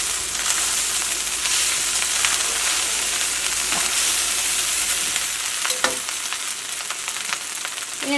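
Chicken fried rice crisping as it is stir-fried in a pan, a loud close sizzle with occasional scraping strokes and a sharper clatter near the end.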